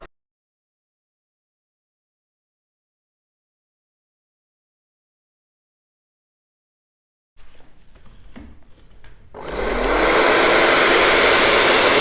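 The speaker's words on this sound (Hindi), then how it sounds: "फिर वापस सारे बालों को लेकर ब्लो ड्रायर कर देंगे।" A handheld blow dryer switches on after a long silence, with brief handling noise before its loud, steady whooshing roar as it straightens hair.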